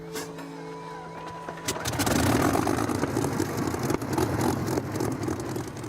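A large 1,600-horsepower engine runs at low revs, first as a steady tonal hum and then as a louder, rougher rumble that swells and holds.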